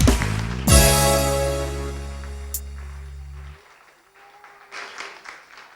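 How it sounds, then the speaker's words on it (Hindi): Studio audience at a Pakistani morning TV show clapping loudly, a sustained burst under a swelling musical chord that fades after a few seconds, leaving quieter scattered sound and faint voices. "सब तालियां बजाइए जोर जोर से"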